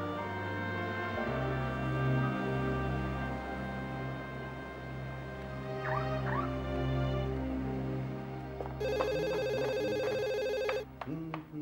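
An electronic telephone ringtone chimes near the end in a short, regular pulsing pattern, heard over a steady, humming indoor background.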